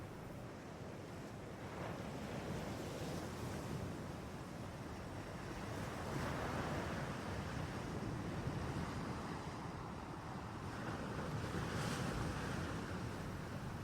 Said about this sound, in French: La mer s'agitait au pied de la falaise.